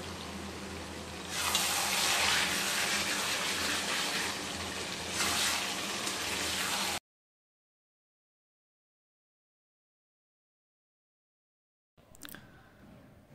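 Water pours steadily from a tap for several seconds, a continuous gush with a brief swell, used for adding to mutton kasha with potatoes; silence follows, then a short clatter.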